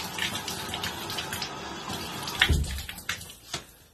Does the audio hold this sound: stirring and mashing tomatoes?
no